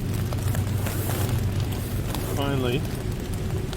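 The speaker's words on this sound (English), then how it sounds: "And it is definitely raining now." Steady rain drums on a tent pitched along the C&O Canal towpath, a constant close patter filling the clip while someone speaks briefly over it.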